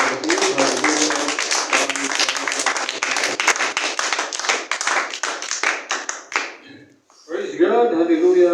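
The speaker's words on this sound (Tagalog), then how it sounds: "Praise God, isang palakpak sa ating Diyos, mga kapatid." A church congregation claps together in a steady, dense burst of applause for several seconds before it stops and a voice begins speaking.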